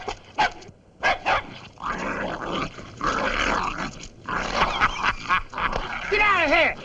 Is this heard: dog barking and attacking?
yes